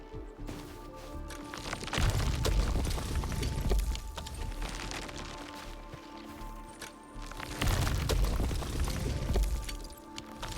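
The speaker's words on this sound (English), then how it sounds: "I say it's time to shred some Originium ore to powder" Originium ore is shredded to powder by a processing unit in Arknights: Endfield, two long bursts of crunching, rumbling grinding over steady game music, loud and close.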